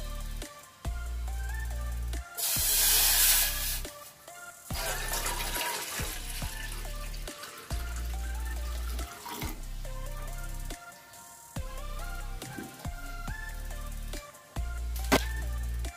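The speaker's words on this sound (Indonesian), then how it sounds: "Kita masukkan airnya." Water pours steadily from a tap into a cooking pot on a stove while jelly is being made, with short gushing bursts separated by brief pauses, close and fairly loud.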